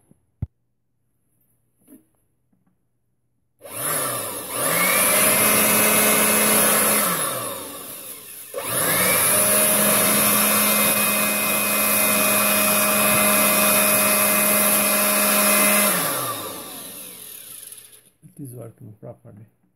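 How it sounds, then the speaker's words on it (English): Electric blower running in two long bursts, each a loud steady whine that rises to full speed and then winds down, with a short pause between them and faint background noises before and after. "Let's connect the blower now."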